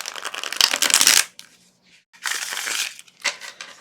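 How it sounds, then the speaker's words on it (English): A tarot deck is shuffled by hand in three close bursts of riffling, flapping cards separated by brief pauses, crisp and fairly loud with no talking. "Okay, cards are shuffled."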